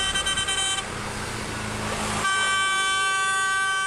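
A white car's horn blares in a long steady blast, then a second honk comes after a short break, sounding close and loud with road noise beneath, aimed at a motorcyclist on the road at night.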